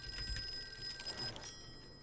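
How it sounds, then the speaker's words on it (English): An old telephone bell ringing in the Call of Cthulhu video game, a steady electric ring repeating through the clip against a low ambient drone. "Fine, I'll pick up the ringing phone."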